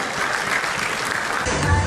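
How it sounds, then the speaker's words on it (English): Conference audience applauding an invited speaker onstage, a dense, steady clatter of many hands clapping that continues through the whole short stretch at moderate loudness. "Please give him a big round of applause."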